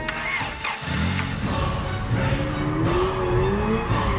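A car engine revs hard while reversing into a creature in a dramatized horror story, with a rising strained roar and tire scuffing, loud and close throughout with no talk.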